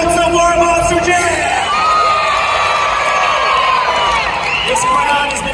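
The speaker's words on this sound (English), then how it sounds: "This crowd has been incredibly loud since we started." A loud arena crowd at a Saturday-night Monster Jam show in Fresno cheers and whoops continuously, with children shouting and a dense roar of voices filling the whole stretch.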